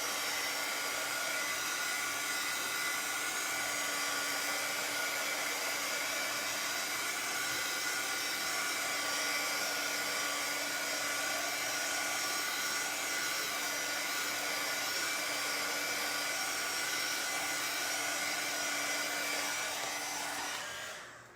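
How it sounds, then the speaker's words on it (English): A heat gun blows a steady, loud airy whir over wet mixed media paint for about twenty seconds before cutting off. "let's hit this with the heat gun for just a second"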